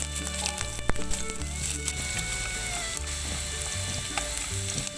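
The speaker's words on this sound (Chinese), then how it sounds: "将干贝丝翻炒" Soaked, shredded dried scallop is stir-fried in oil in a wok, a close, constant sizzle broken by scraping and clacking of the spatula stirring, with no one speaking.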